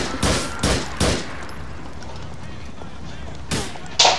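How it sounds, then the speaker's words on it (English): Shotgun blasts in the video game GTA IV, three loud booming shots in quick succession, a pause with steady background noise, then two more blasts near the end. "Shotgun."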